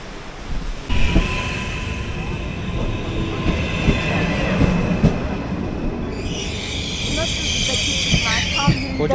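A big train rolls past near La Spezia on the Italian coast by Cinque Terre, a loud, steady rumble and clatter of wagons that ends with high metallic wheel squeals, with faint voices in the background.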